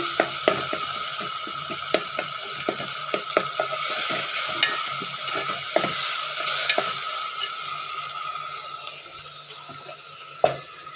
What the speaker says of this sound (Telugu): పుదీనా కూడా వేసానండి కొద్దిగా వేసి బాగా వేయించేసి